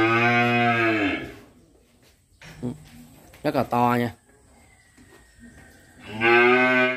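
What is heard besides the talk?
cattle mooing at a cattle farm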